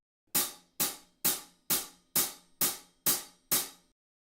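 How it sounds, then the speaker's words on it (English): Eight evenly spaced hi-hat strikes in a steady quarter-note pulse for a beginner rock beat, each a crisp bright tick with a short decay, close and clear with no voices. "These will all be played on the hi-hat with your right hand."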